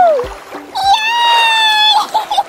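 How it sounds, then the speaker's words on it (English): A toy baby doll drops into a swimming pool with a couple of short, close splashes while a high, sing-song voice calls out over the water. "Splash, splash, splash!"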